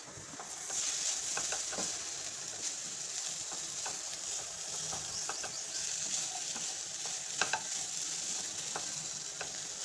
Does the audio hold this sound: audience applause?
no